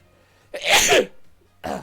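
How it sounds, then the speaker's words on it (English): A video game character in Pokemon Violet sneezes once, a sharp, close burst with a quieter after-sound, and the rest is near silence. "Sorry. Bless you, Penny."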